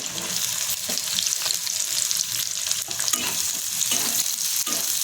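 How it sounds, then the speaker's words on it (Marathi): A large onion sautéing in a pan, a dense continuous sizzle with frequent scraping stirs from a spoon, steady and close throughout with no talking. "आणि आपल्याला ह्याच्यामध्ये छान परतून घ्यायचे एक मोठा कांदा टाकून घेते त्याच्यामध्ये"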